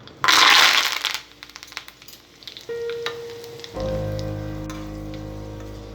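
Mustard seeds, cumin, dried red chillies and curry leaves hit hot oil for a tempering, with a loud hissing burst at first, then quieter crackling and a steady sizzle close by.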